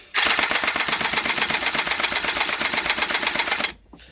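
A HeE MK-17 SCAR H gel blaster fires a long rapid automatic burst with strong blowback, each shot a sharp clacking pop in an even rhythm, loud and close, stopping abruptly near the end.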